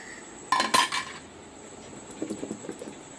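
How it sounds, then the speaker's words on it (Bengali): Cooked rice is drained from a metal pot, first a loud cluster of clanking and lid clinks, then softer rattling and light patter trailing off. "ভাতটা আমি ঝাড়িয়ে নেব"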